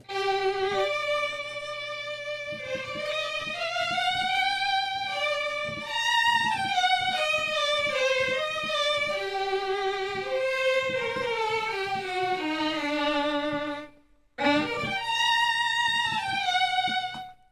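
A solo violin from the Orchestral Tools Igudesman Solo Violin sample library, spot microphone only, plays a lyrical melody with vibrato and sliding notes, heard dry and close, with a brief pause before resuming.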